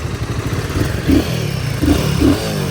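A Royal Enfield Himalayan 450 motorcycle's engine runs close by in a steady, throbbing idle that swells into three short revs, with no talking over it.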